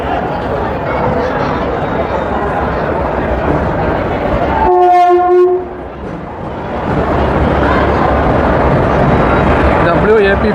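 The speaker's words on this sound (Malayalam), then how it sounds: "നമ്മുടെ ട്രെയിൻ അതാ വരുന്നു. എത്തിപ്പോയി. നമ്മുടെ ട്രെയിൻ എത്തിപ്പോയി." An Indian Railways passenger train hauled by a WAP4 electric locomotive pulls into a busy platform with a loud, steady rumble, a single horn blast partway through and crowd chatter around it.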